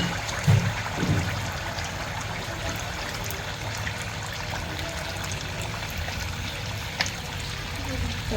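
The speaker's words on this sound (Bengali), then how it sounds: "এভাবে আমি সবগুলো পিঠা ভেজে নিব।" Poa pitha frying in oil make a steady, close bubbling hiss, with a couple of soft knocks near the start and a faint tick later.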